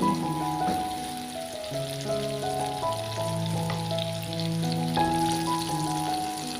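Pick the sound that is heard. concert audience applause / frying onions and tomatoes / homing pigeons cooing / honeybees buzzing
frying onions and tomatoes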